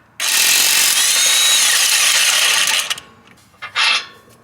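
An air ratchet or impact tool loosens camber bolts on an Acura RSX, a loud continuous buzzing burst lasting a few seconds. A short second burst follows after a brief pause.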